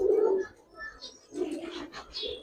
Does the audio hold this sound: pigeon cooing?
yes